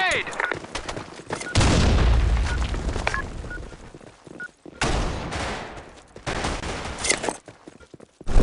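Grenade blasts and bursts of gunfire boom and rattle in the BlackShot shooter, with a heavy explosion early and another midway, separated by scattered shots and game voice callouts.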